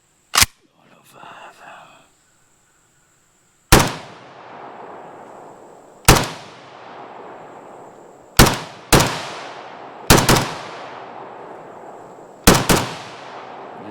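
Six loud, sharp AK-74 rifle shots of 5.45x39mm from a stripper-loaded magazine, fired one at a time at uneven intervals with ringing decay, preceded by a brief click and faint mechanical handling.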